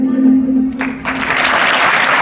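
Audience of seated children at a school Children's Day program breaks into applause welcoming classmates onstage; a voice speaks first, then dense clapping rises and continues loudly.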